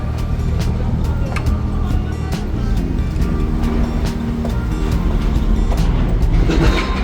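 A car rolls into the vehicle area of a ferry, a low steady rumble of engines and machinery in a large enclosed deck, with faint clanks and distant voices throughout.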